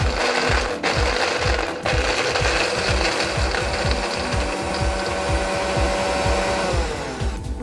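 A kitchen blender grinds walnuts and cashews with a little milk, its motor whirring loudly and close with a rapid pulsing chop that runs steadily before easing off at the end.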